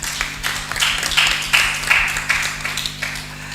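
Audience applause at an aquaculture conference session in Ghana, a moderate scatter of hand claps from a room of people that fades gently over a few seconds.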